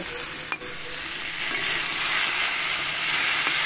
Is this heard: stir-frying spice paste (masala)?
yes